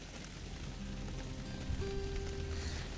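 Rain falling steadily on a surface, a soft continuous patter of drops at close range, with a few faint tonal hums underneath and no talking.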